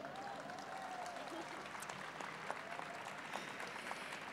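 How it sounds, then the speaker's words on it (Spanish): Audience applause for a panelist at an arts and anti-racism discussion event, steady clapping throughout at moderate distance with a faint voice underneath. "Aplauso para ella,"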